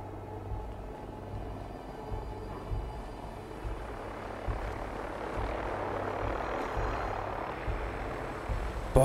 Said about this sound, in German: Boah, der nervt ja gar nicht, der Helikopter.